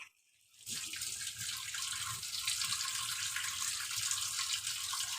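After a short quiet moment, water starts running from a tap and then flows steadily into a basin while homemade rice soap is dipped in it. The flow is faint and even and carries no speech.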